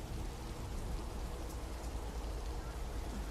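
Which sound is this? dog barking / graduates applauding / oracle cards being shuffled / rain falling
rain falling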